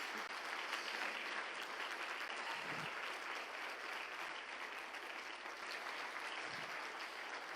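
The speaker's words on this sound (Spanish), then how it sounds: "Yo le daría un fuerte aplauso al Señor Jesús." A church congregation applauds steadily, a dense wash of clapping that holds evenly throughout without a break.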